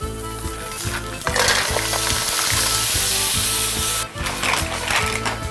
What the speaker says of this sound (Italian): Lo mettiamo in padella e lo lasciamo rosolare con un filo d'olio.